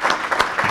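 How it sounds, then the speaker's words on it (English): An audience at a conference session on water governance claps in a short burst of applause, close and fairly loud, with no talking over it. "Let's give a big round of applause to the"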